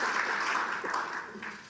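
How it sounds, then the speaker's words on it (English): An audience at a political speech claps, a dense, continuous patter of applause throughout, moderately loud and slightly distant, with a voice faintly audible beneath. "And they're clapping. They're clapping."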